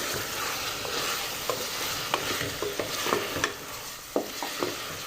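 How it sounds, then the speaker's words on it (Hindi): Chicken for handi frying and being stirred in a pot: a steady sizzle with sharp scraping clinks of a spoon against the metal at irregular intervals, close and clear without talking. "अब मैं इसको भूनूंगी, अच्छे से भूनना है ताकि जो चिकन में स्मेल होती है वो ख़त्म हो जाए।"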